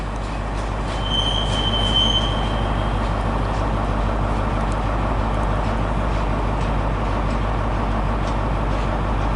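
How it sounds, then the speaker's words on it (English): A Class 142 diesel unit on a Northern service departs Newcastle station, its low engine rumble and rolling wheels steady and loud, with a brief high wheel squeal early on and no talk. "departing now is 142095. That is on a northern service to Chathill"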